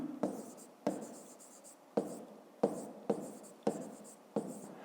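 A number is handwritten during a fifth-grade maths exercise, each stroke a sharp scratch followed by a fading scrape, about seven strokes in an uneven rhythm, close and clear, with no talking.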